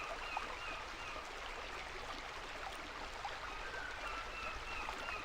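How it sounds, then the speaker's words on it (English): River water flowing steadily past in the Sorcery game, a continuous, even rushing and trickling wash that stays close and calm throughout with no speech. "You pause for a while, watching the river pushing past. The sound is calming"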